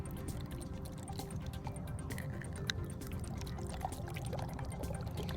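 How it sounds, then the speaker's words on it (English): Water pouring from a big bottle into cups, a soft continuous splashing trickle at close range, fairly quiet, with no talking. "Now let's pour some into these cups and drink some nice cold water."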